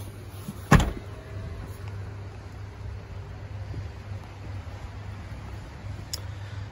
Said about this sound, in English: it's a metal roof that falls down into the boot on this one